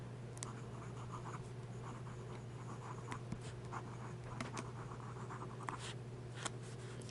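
Pen nib scratching across paper as a row of S shapes is written, a soft continuous friction with small repeated strokes and ticks, close and quiet, no talking.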